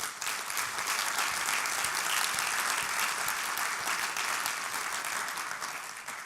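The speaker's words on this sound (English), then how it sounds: "So I think we should give them a round of applause." An audience at a corporate business welcome event bursts into sustained applause, dense steady clapping that holds for several seconds before easing slightly at the end.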